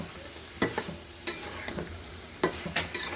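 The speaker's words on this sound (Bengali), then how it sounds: "ধুন্দুল দিয়ে এটাকে আমি অল্প কিছুক্ষণ নাড়াচাড়া করব" Prawns and ridge gourd stirred in a cooking pan over a soft sizzle, with a handful of sharp scraping strokes spaced irregularly, close up and fairly quiet.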